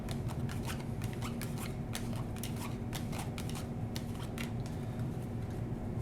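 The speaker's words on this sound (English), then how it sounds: "So Chris is shuffling up the whole deck again" A deck of cards for the Brass Birmingham board game is shuffled close by in a quiet room. Quick, crisp riffling flutters repeat in a steady rhythm.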